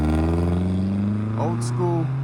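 A BMW pulls away from a classic car and bike breakfast meet, its steady low engine drone rumbling close by with a slight rise as it rolls off, while people talk over it.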